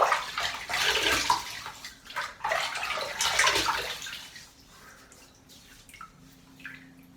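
Water splashes while a soapy face is rinsed before shaving, a close, loud splashing that runs in bursts for about four seconds and then fades to quiet dripping.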